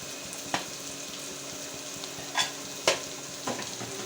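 Spiced mashed potato samosa filling with ground cumin is stirred in a pan, with a soft steady sizzle and a few sharp spoon scrapes and clinks against the metal, close and without talk.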